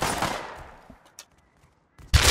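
Gunfire in the survival game Rust, a loud close shot that decays over about half a second, a few faint sharp pops, then another loud burst at the end.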